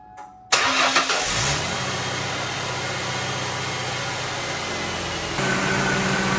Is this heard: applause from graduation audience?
no